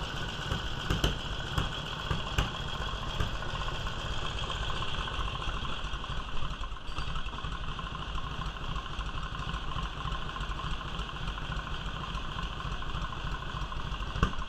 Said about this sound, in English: Working on my motorcycle.